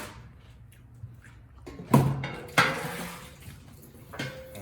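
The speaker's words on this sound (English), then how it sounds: "Let's grab some pans." Pans are pulled from a kitchen cupboard while vegetables are being prepared. A few soft knocks lead into two loud metallic clangs, followed by a lighter rattle and a final clink near the end.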